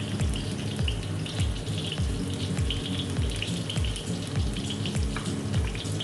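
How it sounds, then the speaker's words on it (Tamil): Chopped garlic sizzles in a small amount of hot oil in a pan. The frying hiss is steady and continuous, with a low rhythmic layer of background sound beneath it. "கொஞ்சமாக எண்ணெய் ஊற்றிட்டு நம்ம வந்து கட் பண்ணி வச்ச பூண்டு இதில் முதல்ல சேர்த்துடலாம்"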